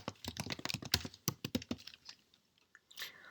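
Code being typed on a computer keyboard: rapid, close key clicks in irregular bursts, thinning to a few scattered taps and a final cluster, with no voice over them.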